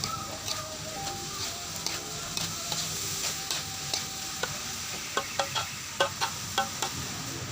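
Young jackfruit stir-fry being stirred in a pan, a steady sizzle of frying under repeated scraping and tapping of the spatula, close up and without talk.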